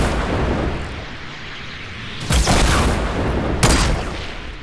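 Gunfire in the video game Fortnite: two sharp, loud bursts of shots about a second apart stand out over a steady noisy game background.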